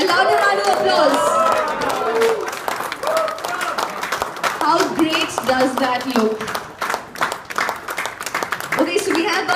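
A crowd bursts into loud, sustained applause with dense clapping and cheering, while people chatter and a voice talks over the noise throughout.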